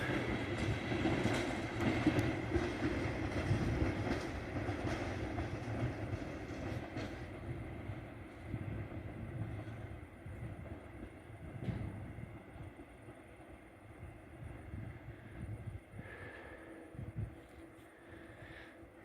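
Tren Groc yellow train pulling into La Tor de Querol-Enveig station, a steady rumble of rolling wheels and rail clatter that fades gradually as the train slows, with faint squeals near the end.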